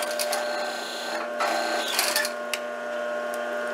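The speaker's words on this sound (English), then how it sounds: "Reverse your stitch, make sure you lock it in." Sewing machine stitching back and forth on purse fabric to lock a seam, a steady close mechanical whir with brief shifts in pitch and a few clicks, no talking.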